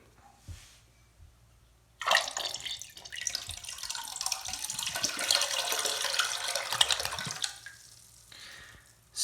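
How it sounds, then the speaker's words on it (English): A siphon jet toilet with its jet plugged flushes from a full tank: a sudden rush of water surges up, swirls and gurgles steadily for about five seconds, then tapers off to a quieter trickle, heard close in a quiet room. "So it did flush"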